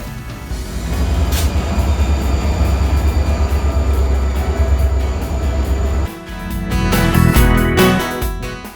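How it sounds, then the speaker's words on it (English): A Rocky Mountaineer passenger train rumbles steadily nearby with a loud low roar as it approaches a station, then the sound shifts as carriages clatter past with metallic rattling and squeals. "we heard our train approaching"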